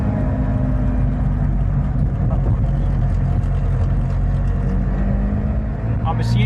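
A Trabant pulls slowly out of a car park over a speed hump, its engine a steady, loud drone heard from inside the car throughout.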